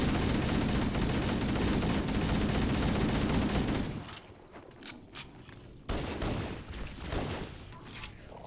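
Shotgun gunfire in the video game Halo, a dense burst of rapid booming shots at first, then a pause and a few separate loud blasts, close and punchy.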